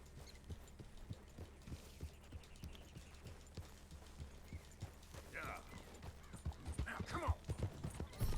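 A horse gallops in the Red Dead Redemption 2 game with steady, rapid hoofbeats throughout and a low rumble underneath, while someone talks faintly over the later part.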